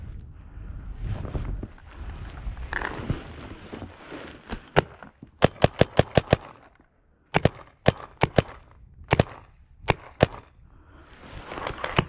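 Paintball guns fire during an outdoor game in quick volleys of sharp, close pops, with several rapid shot strings separated by quieter stretches of movement and rustling.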